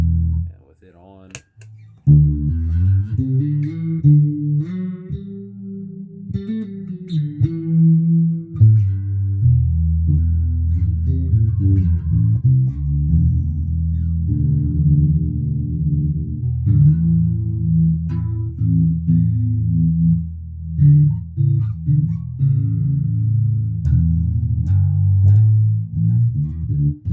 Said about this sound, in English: it is a really nice, simple chorus.